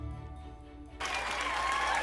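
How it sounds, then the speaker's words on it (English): Cheering and applause from a group after a call to cheer during a children's Bible story, a burst of broad clapping noise starting partway in and holding steady to the end. "Let's all cheer for Joseph!"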